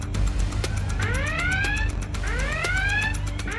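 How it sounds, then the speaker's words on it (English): A high water level alarm sounds loudly, an electronic tone sweeping upward in two repeated rising bursts over a steady background hum. "which product will he go for when he hears the high water level alarm?"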